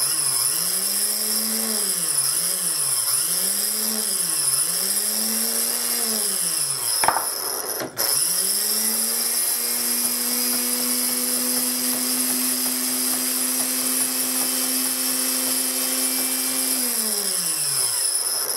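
A power tool grinds down high spots on worn euphonium valves, a steady loud whine that rises and dips in rhythm, cuts out briefly, then holds a long even tone before winding down.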